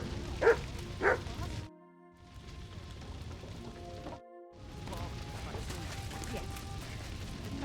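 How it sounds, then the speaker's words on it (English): Dog barking in Kingdom Come: Deliverance II, two sharp barks near the start over game ambience and music, with people talking afterward. "Oh, the dog is here."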